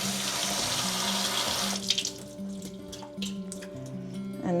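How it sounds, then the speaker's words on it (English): Black rice being rinsed under a running kitchen tap, a steady close hiss of flowing water over grains in a sink, with a brief splashing shift partway through; no talking. "So just rinsing it off."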